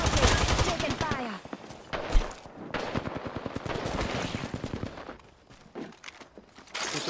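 Rapid gunfire bursts from a battle royale video game firefight crackle loudly and almost continuously, with dense volleys and short pauses, mixed with game effects and occasional speech.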